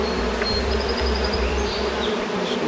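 Honey bees swarm over a hive frame heavy with fresh wax comb, a steady close buzzing drone filling the whole stretch without any talk.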